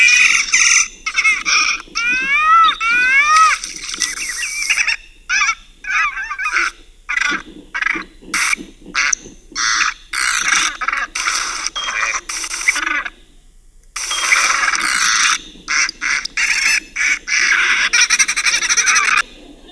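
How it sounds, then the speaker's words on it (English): Short bird calls from thousands of recordings arranged by similarity in a Google machine learning experiment play back in rapid succession, loud honks, squawks, chirps and trills separated by brief gaps. "Organising thousands of bird sounds by similarity."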